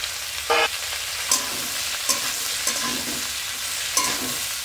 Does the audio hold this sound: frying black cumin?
yes